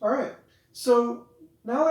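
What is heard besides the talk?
No everyday noise stands out behind the speech.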